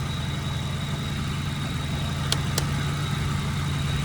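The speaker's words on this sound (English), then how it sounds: "and then I'll start the engine." The 2.3L engine of a 2008 Ford Ranger idles with a low, steady hum, quiet and even, broken only by two short clicks partway through.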